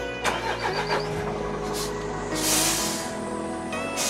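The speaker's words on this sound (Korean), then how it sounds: "시동 한번 켜봐 드리도록 하겠습니다" A 2024 Hyundai All New Mighty 4-ton wide wing-body truck with air brakes and a ZF automatic transmission starts and settles into a steady, close idle, with brief bursts of air hiss partway through.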